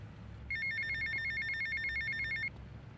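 A payphone rings in GTA Vice City, a steady electronic trill lasting about two seconds, clear and close over a low rumble of background game ambience.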